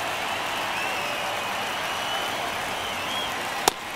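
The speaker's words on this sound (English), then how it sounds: "Crowd locked in right now." A steady broad crowd roar fills a baseball stadium in MLB The Show 23 during a tense ninth inning, a constant cheering wash with one sharp crack near the end.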